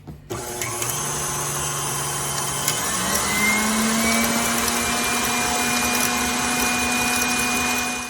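A handheld electric mixer whips egg whites into meringue for poached egg meringue cookies, a steady loud motor whine rising slightly in pitch as it runs continuously without talk.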